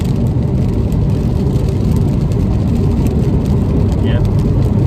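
BMW 2 Series Gran Coupe M Sport accelerating after a downshift, heard from inside as a loud, steady engine and road roar that fills the whole stretch.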